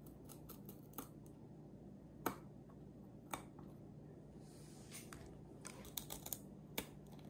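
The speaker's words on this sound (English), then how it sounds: "Once your candles have set, you just need to trim the wicks. I'm using wick trimmers." Wick trimmers snip candle wicks on freshly set marbled candles, a quiet series of sharp, crisp clicks and snips spaced unevenly, close up with no talking.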